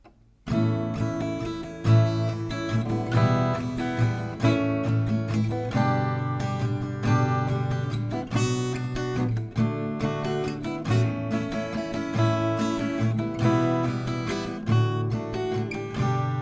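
Acoustic guitar strummed steadily through the bridge chords of a song, full and close with a regular rhythmic pulse, played alone without voice for about sixteen seconds.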